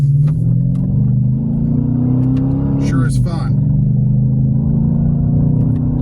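A Dodge Challenger's V8 engine rumbles and climbs in pitch as it revs, dipping briefly before pulling again, loud and steady while a person speaks over it.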